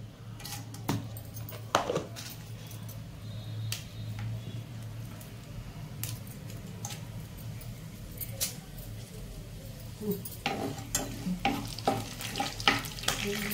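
Spices sizzle and crackle in hot oil for amaranth-leaf tomato curry, a steady frying hiss with occasional sharp pops and stirring clicks, close and fairly quiet, no talking.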